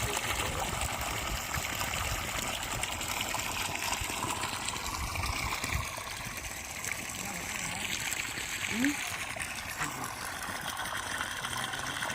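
Water running steadily from a pipe outdoors at a plot near Kannampatti, Vedasandur, Dindigul, a continuous broad gushing rush that fills the whole stretch with no clear voices over it.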